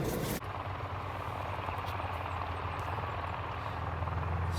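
Distant wind turbines in a morning landscape give off a steady, low, helicopter-like whirring drone, faint and continuous after a brief opening knock, with no talking.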